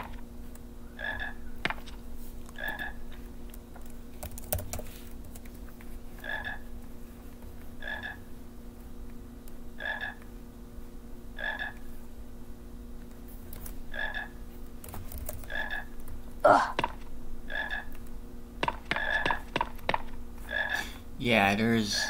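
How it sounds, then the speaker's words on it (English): Repeated frog croaks sound at a steady rhythm, roughly every second or so, inside a dim Harry Potter video game level, moderately close over a low background hum, with a few other brief game noises near the end. "Where is that frog coming from?"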